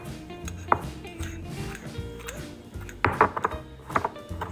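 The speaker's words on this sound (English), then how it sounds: "And we're gonna mix it." Apples tossed with cinnamon sugar in a bowl make soft, irregular thuds and scrapes, with a few sharper knocks near the end, close by and moderately loud with no talking.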